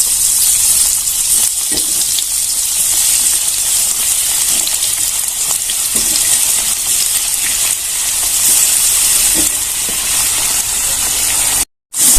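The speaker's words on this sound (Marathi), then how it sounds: "आता सगळे कारले आपल्याला असेच तळून घ्यायचे" Bitter gourd (karela) pieces deep-frying in oil, a steady loud hiss and bubbling sizzle throughout, close and continuous, briefly cutting out near the end.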